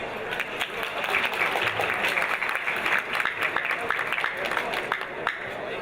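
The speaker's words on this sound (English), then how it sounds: "Again, please give a round of applause for Mark Ross" Steady audience applause fills a gala event hall for Mark Ross, dense and sustained clapping from a large crowd that holds at an even level throughout.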